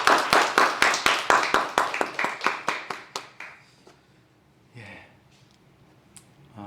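A congregation at a Korean church's first Sunday worship of the New Year 2021 claps in unison, a strong regular beat of sharp claps that slows and fades out, followed by near silence and a brief murmur.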